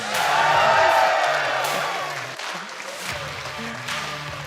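A large crowd at a political rally in Nova Scotia applauds and cheers, loud and dense at first, then the clapping and whoops gradually thin out.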